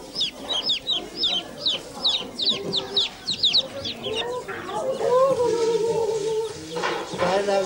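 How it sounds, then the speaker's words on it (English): Newly hatched chickens give a run of rapid, high repeated peeps and chirps, then lower clucking from adult fowl, close and fairly loud on a peasant farm. "Twenty days later, 11 chickens come out of 21 eggs."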